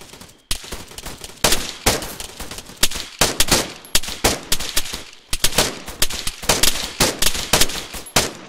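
Rapid bursts of automatic rifle fire in the Arma 3 military shooter crack close and loud, with short pauses between volleys and no talking.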